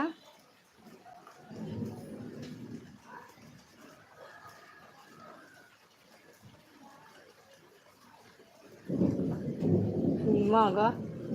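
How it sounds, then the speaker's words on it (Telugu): Deep rumbling thunder rolls in two bursts, a brief one early and a louder, longer one near the end, with faint voices in the background. "ఉరుములు వినిపిస్తుందా సౌండ్ ఉరుములు మెరుస్తున్నాయి బాగా"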